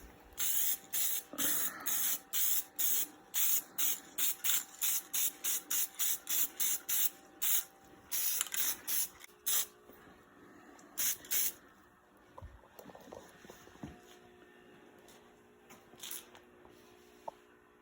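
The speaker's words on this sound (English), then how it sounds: "now we're about to hit it with the Airvo Clear Acrylic" Repeated short bursts of Airvo clear acrylic coat sprayed from a can onto a T86 overdrive transmission, about twenty quick hissing passes in steady rhythm, close and loud, then quieter handling noises and faint knocks toward the end.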